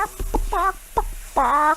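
Cartoonish chicken clucks from the hidden-object game Hidden Folks, a few short bursts in quick succession, fairly close and clear, with no talking over them.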